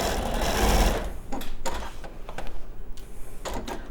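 A sewing machine stitches a folded star tote bag, starting with a short whirring run that gives way to scattered clicks and brief mechanical taps nearby.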